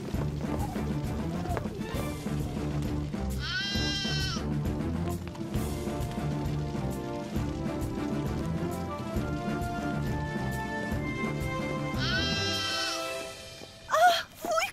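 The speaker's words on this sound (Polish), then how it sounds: "To wełniaczek, mały baranek." A little lamb in a children's cartoon bleats in two short, wavering cries, a few seconds apart, over a constant bed of background music.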